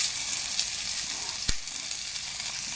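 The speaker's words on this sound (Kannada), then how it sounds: "ಈರುಳ್ಳಿ ಹಾಕ್ಕೊತಾ ಇದ್ದೀನಿ ಸಣ್ಣಕ್ಕೆ ಹೆಚ್ಕೊಂಡಿರೋದು" Crushed garlic and finely chopped onions fry in a hot pan for an ivy gourd pepper fry, giving a steady, close sizzle with one soft thump partway through.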